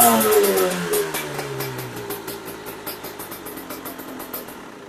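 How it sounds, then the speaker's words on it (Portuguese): Close, loud revving from a nearly new MXF 300TS motorcycle: the engine rises sharply at the start, then falls back and settles into a fast, steady pulsing idle, with no speech. "Dá uma acelerada aí."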